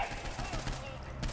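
Gunfire in the video game Saints Row IV, quick bursts of automatic shots with a voice speaking underneath.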